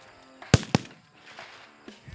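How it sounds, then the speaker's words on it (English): Two sharp bolt action rifle gunshots at a long range shooting match, loud and close in quick succession, followed by softer range noise. "Most everybody is shooting a bolt action rifle"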